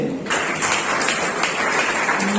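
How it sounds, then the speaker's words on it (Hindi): Audience applause at a business company's payment distribution event in India, a dense continuous wash of clapping that starts abruptly and holds steady and loud throughout. "प्लीज जरा ताली के लिए।"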